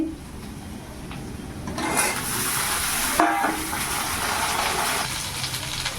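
Pointed gourd frying in a pan gives a steady, moderately loud sizzle with some stirring and scraping noises mixed in, and no talk.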